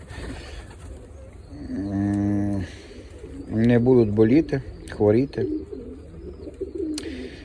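Pigeons coo inside a loft, deep throaty rolling calls in a few short bouts close by, mixed with someone talking over them.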